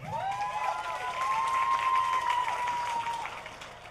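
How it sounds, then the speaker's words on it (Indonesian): Applause from a student audience at a campaign event in Jember, steady clapping with a long sustained tone over it from a whistle or cheer, fairly close and continuous. "Tepuk tangan untuk UNED"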